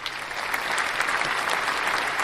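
Steady applause from a happy crowd, dense clapping filling the whole stretch at an even, sustained level with no break.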